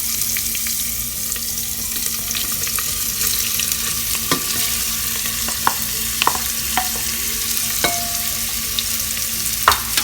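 Garlic and onion frying for dal fry, a steady close sizzle with occasional sharp clicks and scrapes of stirring over a constant low hum, no voices.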